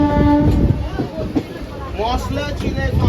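A local train rolls on after pulling out of Bansberia station, heard from inside the ladies' compartment: a steady loud rumble and rattle with passengers talking over it throughout.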